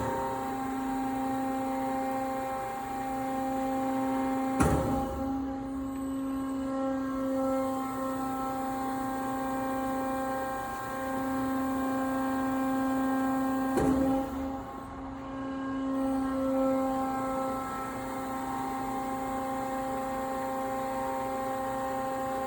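A Kennametal Extrude Hone Vector 200 abrasive flow machine advances its top cylinder. It gives a steady tonal mechanical hum, broken twice by a sharp clunk several seconds apart.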